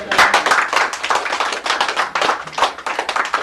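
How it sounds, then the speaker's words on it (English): A church congregation at an anniversary service claps loudly and close, uneven bursts of hand claps rising and falling with no talk over them. "Let's give a clap offering to"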